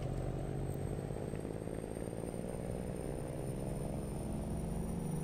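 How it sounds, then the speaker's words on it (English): A Western Star 4900FA truck engine in American Truck Simulator drones steadily at a low, even pitch, loud and continuous for the whole stretch, with no talking. "Just that sound though, the engine."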